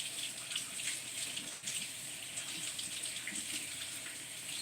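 Tap water runs steadily into a sink as seasoning is rinsed off wet hands, a continuous close hiss and splash with no pause across the whole stretch.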